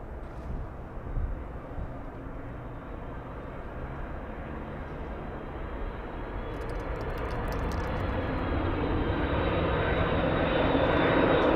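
A jet airliner at Los Angeles International Airport roars steadily and grows louder toward the end as it nears, a broad continuous engine rumble with no talk.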